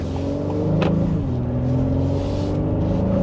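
A 2026 Honda Pilot Trailsport SUV accelerates to merge into traffic, its engine a steady, close interior drone with a smooth rising pitch and road rumble underneath.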